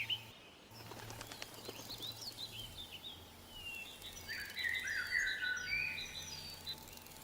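Jungle birds in the survival game Empyrion with the Reforged Eden 2 mod: soft wingbeats flutter early, then chirps and trills rise in the middle distance over a steady low ambient hum, with no talk.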